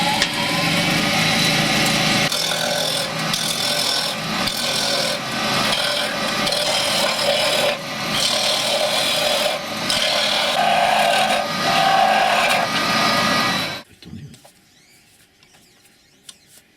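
Wood being carved on a wood-turning lathe, a loud continuous rasping, scraping cut with slight surges in intensity that stops abruptly, leaving near silence.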